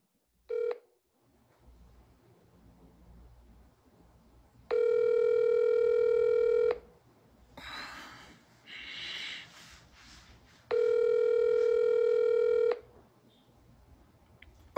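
A forwarded phone call rings out as two long, evenly spaced electronic ring tones after a short beep, with quiet breathing and snorting between them.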